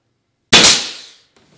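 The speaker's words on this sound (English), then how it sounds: "So I'm going to just take my gun and I'm going to put it up into here like that." A pneumatic nail gun fires into wooden door casing, giving a single loud, sharp crack up close that rings out and decays over about half a second, then a faint tap afterward, with no talking.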